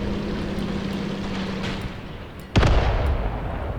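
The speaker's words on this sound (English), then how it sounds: "that was my assault gun shooting at some poor guy that was still back here" An assault gun fires in the tank battle game Graviteam Tactics: Mius Front, one sharp loud boom midway that rolls into a lingering rumble over a low steady engine drone.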